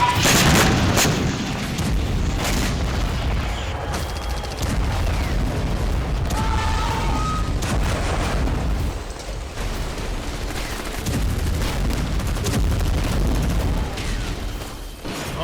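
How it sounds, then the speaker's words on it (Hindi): Heavy bombardment and gunfire in the Gaza war, a dense continuous roar of booms, blasts and rattling shots that stays loud throughout, with no pauses and no speech. "हमले, बमबारी, फायरिंग, झड़प और टकराव।"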